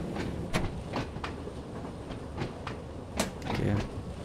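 An old metro train on a heritage railway on the Isle of Wight, in the game Train Sim World 2, rumbles steadily along the rails with a series of sharp clicks and clacks, likely while running slowly over a switch.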